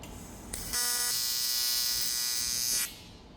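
A TIG welder strikes an arc on cast aluminium, producing a steady, bright electric buzz that holds for about two seconds before cutting off, close and fairly loud.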